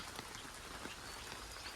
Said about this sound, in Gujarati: પણ વરસાદ ચાલુ છે અત્યારે જો